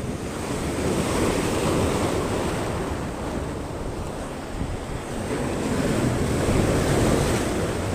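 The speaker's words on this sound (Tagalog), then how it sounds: "Malakas ang alon, guys." Strong surf crashes and churns continuously against a rocky shore, loud and close, with wind buffeting the microphone and swelling surges.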